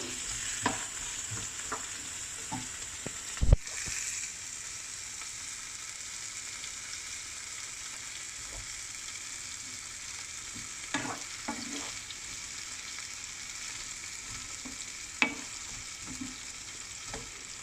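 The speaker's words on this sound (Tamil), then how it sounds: "நல்லா வதங்கட்டும்." Onion, tomato, potato and fresh fenugreek leaves sauté in a pan with a steady sizzle, broken by a few louder scrapes and clatters of stirring and one sharp knock near the start.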